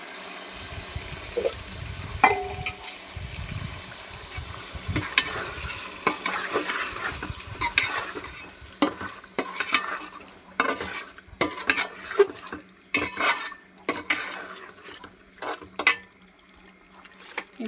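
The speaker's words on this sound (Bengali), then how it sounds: "এই যে মাংসটা আমি ভাজা নিচ্ছি, এই যে এখন আদা রসুন বাটা দিয়ে দিতেছি।" Meat frying in a pot with ginger-garlic paste for chicken biryani, stirred with a utensil that scrapes and clatters irregularly against the pot over a soft steady sizzle, close and alone without talk.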